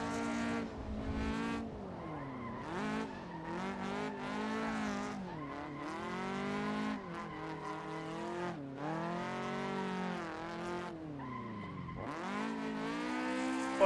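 Toyota Corolla drifting in a racing video game, its engine wailing and revving up and down continuously while tires squeal through repeated slides, loud and steady throughout.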